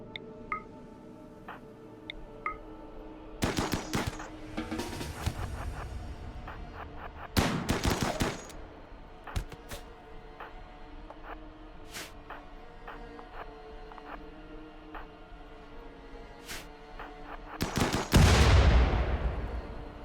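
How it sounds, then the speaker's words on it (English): A RimWorld battle plays out as scattered bursts of gunfire, including sniper rifles and grenades, mixed with separate sharp cracks and ticking interface clicks over a quiet bed, and a louder burst near the end. "They just friendly fired a sniper rifle."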